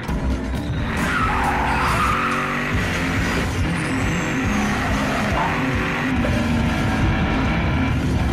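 Loud, continuous engine roar with tires skidding and squealing in Battlefield Hardline, a sustained screech over heavy motor noise throughout.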